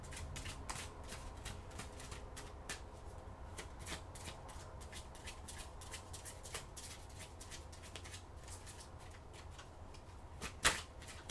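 Oracle cards being shuffled and drawn: steady papery riffling and flicking across the whole stretch, close and fairly quiet, with one sharper snap near the end.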